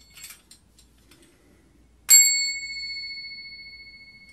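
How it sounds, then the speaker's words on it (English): An old metal desk bell struck once as percussion, giving a bright, loud ding that rings on and slowly fades, after a few faint soft taps and clinks. "And I have some old desk bells."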